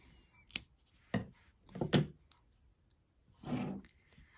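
Scissors snipping a yarn tail on a crocheted amigurumi, a few quiet separate clicks and snips close to the mic with soft rustling between them.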